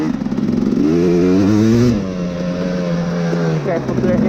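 Honda CRF150R dirt bike engine revving hard while ridden on a track, its pitch climbing and dropping through gear shifts in close, loud, continuous bursts, with some rider speech mixed in.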